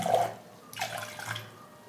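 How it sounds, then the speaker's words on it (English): A small amount of water is poured into a glass: a short, soft splashing trickle in two brief bursts, close and fairly quiet, with no one speaking. "let's say I'm pouring a little bit of water"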